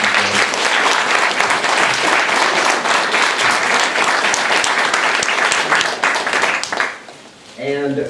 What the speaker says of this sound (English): I think that they all deserve a round of applause